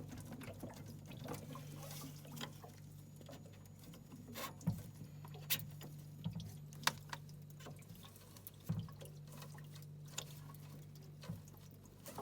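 Water drains from a domestic gas boiler as its pressure relief valve is pulled out, a faint trickling patter over a steady low hum with a few scattered clicks and knocks.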